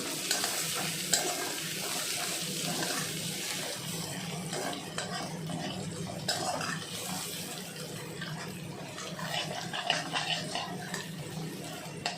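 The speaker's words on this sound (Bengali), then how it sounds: "পেঁয়াজটা জোরে করেই ভাজি।" Onions frying hard in a pan for a spicy pointed gourd curry, a steady broadband sizzle with scraping stir strokes running throughout, close and fairly loud, no talking.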